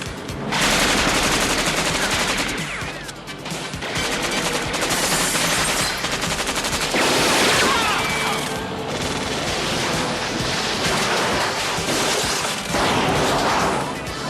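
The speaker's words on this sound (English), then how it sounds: "The film's lead Chuck Norris uses the Israeli submachine gun as well." Rapid Uzi submachine gun bursts from an action movie scene starring Chuck Norris, loud sustained automatic fire with dense rattling volleys and brief pauses, carrying through nearly the whole stretch.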